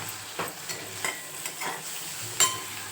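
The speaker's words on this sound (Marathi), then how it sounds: "आपल्याला यात टाकायची जाडसर कुकलेला लसूण आणि एकदा हलवून घ्यायची" Chillies and coarsely crushed garlic are stirred in a pan for a raw-tomato dish, with soft, repeated scraping strokes over a faint, steady sizzle.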